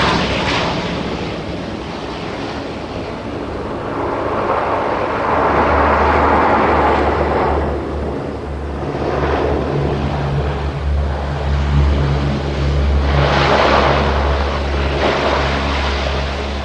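Lockheed C-130 Hercules transport aircraft in a flying display at the Royal International Air Tattoo, loud propeller and engine roar swelling and fading as it passes, with broad rushing turboprop noise and no voices.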